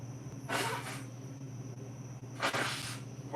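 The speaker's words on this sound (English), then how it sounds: "that was definitely a bit of a sneeze" Two short broadband sneezes, the second a bit stronger, burst out close to the microphone over a steady low hum in an indoor room.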